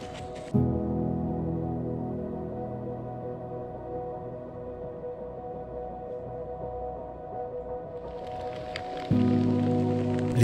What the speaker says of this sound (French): Les averses se succèdent